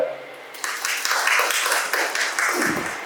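Applause breaks out at a Marathi TV serial press conference as actor Ajay Tapkire is introduced: a dense, sustained clapping wash that swells after a brief quieter start and carries on for a few seconds.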